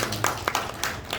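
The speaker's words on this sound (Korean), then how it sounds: "우리 사랑의 박수로" A church congregation clapping together to welcome guests at an anniversary thanksgiving service, a short burst of steady indoor applause heard close.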